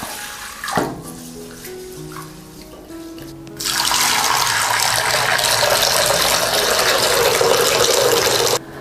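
Tap water gushing steadily into a bowl while glutinous millet is washed, a loud continuous splashing stream that starts abruptly after a few quieter knocks and runs to the end.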